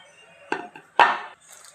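Chopped coconut pieces for coconut chutney drop into a container with two quick, hard clinks and a softer knock in between, close and in an otherwise quiet kitchen.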